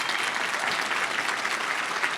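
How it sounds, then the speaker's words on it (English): An audience claps for an executive director at a radiotheranostics leadership event, a dense, steady round of applause heard alone. "let's give Melody a round of applause"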